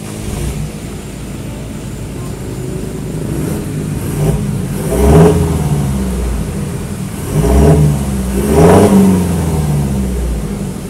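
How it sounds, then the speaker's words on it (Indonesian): Toyota Fortuner 2020 facelift diesel engine with an upgraded HKS exhaust, idling with a low rumble and then revving in three rising bursts, fairly close and loud. "dia exhaust systemnya udah di-upgrade dengan HKS dan suaranya cukup keren"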